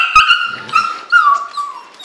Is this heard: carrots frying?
no